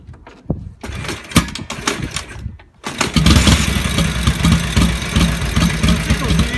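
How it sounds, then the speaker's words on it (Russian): A military-pattern Harley-Davidson WLA motorcycle starts up after a few sharp kicks and clatters, then settles into a loud, steady, throbbing idle close by. "Мы мотоцикл заводим."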